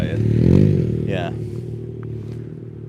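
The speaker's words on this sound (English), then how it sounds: "So annoying when a motorcycle passes. They're so loud." A loud motorcycle passes nearby on a street, its engine roar swelling and then fading over a few seconds as people talk.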